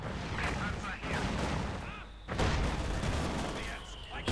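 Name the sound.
StuG assault gun firing in Company of Heroes 2 video game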